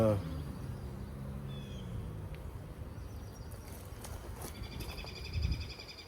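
Honey bees hum around an open beehive at the start of the season, a faint, steady buzz close by with scattered higher insect tones and a brief soft thump near the end.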